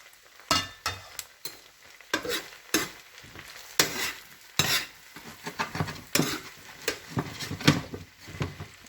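Coconut cream going into a pan of vegetarian run-down, with sizzling under a series of sharp utensil scrapes and clinks against the pan, irregular stirring strokes close by, no talking.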